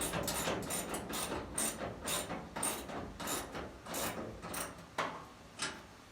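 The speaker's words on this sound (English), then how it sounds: "hit the nut with a socket" A socket wrench ratcheting nuts onto full UTV doors, rapid clicking pawl bursts in a repeated back-and-forth rhythm, close and moderately loud with no talk.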